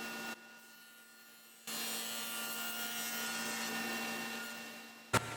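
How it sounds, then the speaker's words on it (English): A table saw with a dado stack cutting a dado in a wooden shelf piece on a crosscut sled, a steady whirring cut after a short lull, ending in a brief sharp knock. "And then I'll cut out my dado."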